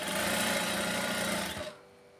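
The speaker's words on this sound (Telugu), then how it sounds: "ఇదే విధంగా మొత్తాన్ని కుట్టేసేయాలి." Close, loud whirring of a sewing machine stitching thread piping onto a blouse runs continuously for about a second and a half, then cuts off into quiet.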